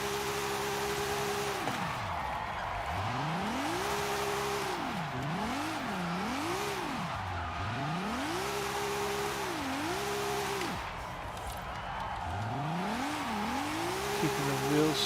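A drift car in Forza Horizon 5 revs hard in second gear through a clutch kick, the engine note rising and falling in repeated sweeping arcs with tire squeal, loud and continuous.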